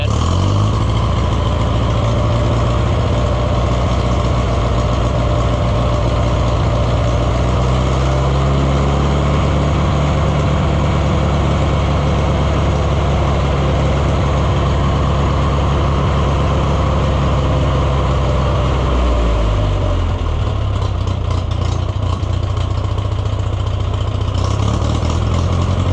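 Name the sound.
Oliver 1250 tractor engine running after fuel system cleaning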